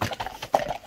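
Large working horse, one ridden in ulak (kok-boru) games, clip-clops with a few quick hoof strikes that sound fairly close and moderately loud in a short burst, with no talk.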